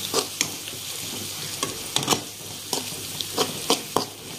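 Coriander and cumin powder being stirred into biryani masala in a pan, a steady sizzle broken by repeated sharp scraping strokes of the spoon at an uneven rhythm, close and moderately loud with no talking.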